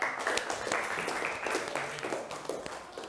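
Classroom applause for a student presenter at a high school in Malang, a brief patter of many hands clapping at moderate level with some background voices mixed in.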